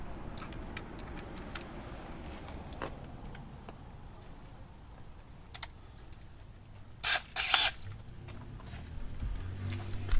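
A drill working a broken screw on a BMW K1200R motorcycle: faint ticking and scraping contact for several seconds, then two short, loud whirring bursts from the drill near the end.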